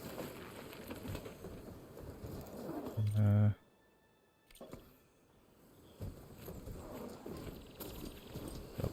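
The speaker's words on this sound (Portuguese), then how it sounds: "Vou chamar aqui o cavalo" A horse in Horizon Forbidden West, hooves clip-clopping in a steady run, with a loud thump and a brief near-silent gap midway before the hoofbeats resume.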